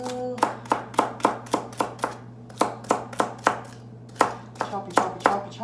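A knife chops food on a cutting board in about a dozen crisp, close strikes, set in a rough, steady rhythm with short pauses, against a low background hum.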